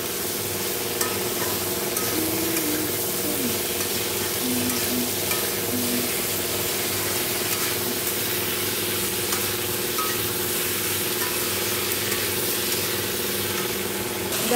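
Spice mix for a fish curry sautés in a pan, giving a constant dense sizzle and stirring noise throughout with a faint steady hum underneath and no talking.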